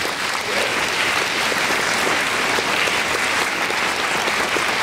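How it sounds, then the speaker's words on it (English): Steady, dense audience applause fills a school spring concert hall with strings, concert and jazz bands, continuous and loud from start to finish with no voices over it. "A round of applause for them,"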